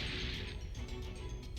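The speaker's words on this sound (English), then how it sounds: "two of us had the tile smashing intro" A tile-smashing intro effect from the Dragon Ball: The Breakers video game plays as a faint, continuous crunching crash with small scattered pops and cracks throughout.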